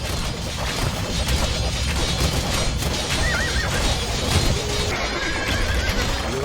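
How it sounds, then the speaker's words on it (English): A horse in the Age of Empires 2 video game neighs and whinnies loudly over clip-clopping hooves and clattering battle noise, with several close, shrill calls through the scene. "Queen Jadwiga has been thrown from her horse."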